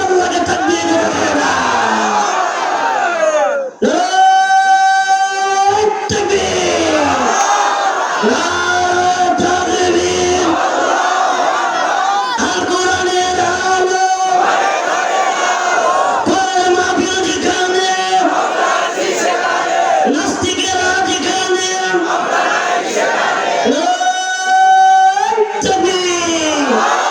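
A large crowd at a madrasa waz mahfil in Naogaon, Bangladesh, shouts a takbir chant in loud, repeated call-and-response waves that fill the space throughout, with powerful voices leading.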